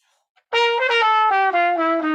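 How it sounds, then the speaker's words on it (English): A short bebop line over a dominant chord, each beat an eighth note and two sixteenths, played as a steady bouncing run of clear tones at close range. "An example could be an 8th note and 2/16ths."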